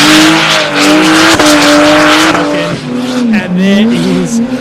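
Drift car at a drift championship qualifying run, sliding sideways flat out with tyre smoke: a loud, sustained engine howl with shifting pitch and squealing tyres, close and continuous, briefly dipping before rising again.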